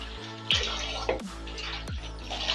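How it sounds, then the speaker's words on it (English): Fruits dipped and washed in a bowl of water: splashing and dripping close up, with a few sharp sloshes and a low steady hum beneath, no talking. "Then the next thing I do is just dip my fruits inside like that."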